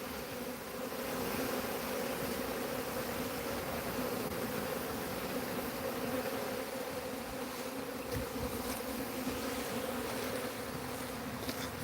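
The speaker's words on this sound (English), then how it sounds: "So the bees are looking good, guys." Honey bees crowd a hive, giving a dense, steady buzzing drone that carries on unbroken for about twelve seconds, close and even in level, with no voices.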